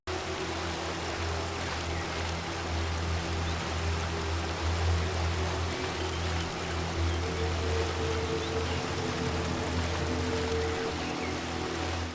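Steady rushing waterfalls beside a Dunmer home in Skyrim, a continuous broadband roar with low rumble, even and unbroken throughout with no voices.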